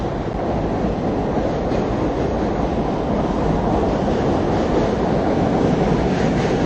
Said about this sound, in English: I see the B train approaching.